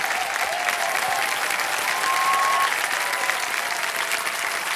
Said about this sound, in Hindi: जोरदार तालियां रजनी जी के लिए।